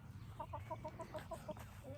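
Laying hens cluck in a quick repeated series of short calls, close and clear over a low rumbling background.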